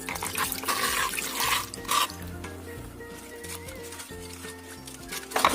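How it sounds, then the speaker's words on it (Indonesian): Roughly 300 ml of water poured into a container holding a cooking mixture, a steady splashing and trickling that lasts about two seconds and then fades under low background noise and clatter. "Kemudian kita tambahkan sedikit air."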